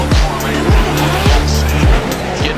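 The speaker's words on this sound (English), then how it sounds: "here goes Dylan Hughes, just barely ripping into that outside zone" Drift car tires squealing at a Formula Drift event in St. Louis, a loud continuous screech with the engine roaring and bouncing off the rev limiter in repeated dips, close and dominant.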